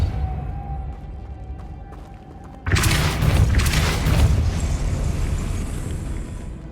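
A Depulso spell in Hogwarts Legacy lands as an abrupt loud magical blast, a dense roaring burst that lingers for several seconds before thinning out, with no talk over it.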